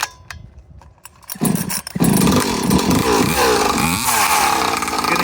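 Husqvarna 543xp chainsaw fitted with a pipe: a few sputtering pops and blips, then the engine revs up to a loud, raspy, sustained scream with wavering pitch, close and alone.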